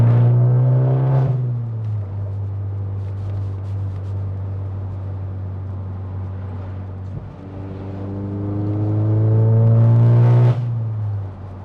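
Exhaust note of a modified VW Eos convertible with an Scirocco R-style engine swap, accelerating on the road: a loud, continuous engine drone that rises in pitch, eases off mid-way, then climbs again before settling.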